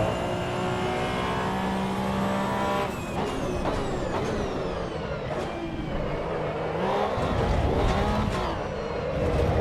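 A race car engine revs and shifts through a lap in Assetto Corsa EVO, with rising and falling whine, gear changes and hard acceleration, loud and continuous throughout.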